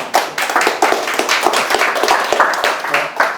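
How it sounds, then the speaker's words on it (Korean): Audience applause breaks out at the close of a public lecture in a peace lecture series: a dense, steady wash of many hands clapping at once, with sharp individual claps standing out, loud and close throughout. "크게 박수 한번 쳐주시고"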